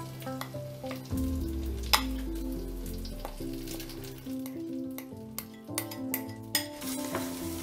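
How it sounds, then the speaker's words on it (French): Tomato paste frying in a pot of oil with blended onion and garlic, a steady sizzle with clinking spoon and pot scrapes as it is stirred, heard close with no talking. "Et laisser cuire la tomate concentrée pendant 5 minutes en mélangeant régulièrement."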